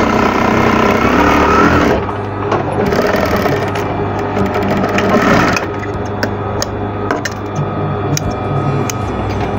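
A sewing machine runs steadily while stitching an apron, a close mechanical whir with a low motor hum, briefly easing around the second mark before resuming continuous stitching.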